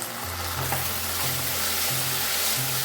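Ginger garlic paste frying in a pan while being stirred, a continuous close sizzle with scraping stir sounds throughout, no talking.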